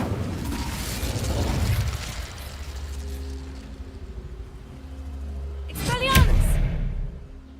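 A fire spell goes off in Hogwarts Legacy with a rumbling burst early on, followed by a quieter stretch and then a bright whooshing flare near the end, with other game effects mixed in.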